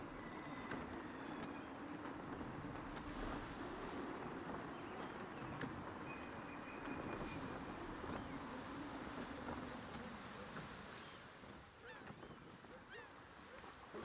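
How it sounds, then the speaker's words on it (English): Gusting wind rushes steadily while a sailing ship moves across the water in Assassin's Creed 3, a broad continuous roar with creaks and faint splashes, fading slightly near the end. "My goodness, that was windy."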